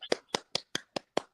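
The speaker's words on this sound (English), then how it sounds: "Let's give him a round of applause for that." Seven slow, evenly spaced hand claps, sharp and distinct with short silences between, close to the mic and fairly quiet, sounding like a single person clapping rather than a full audience.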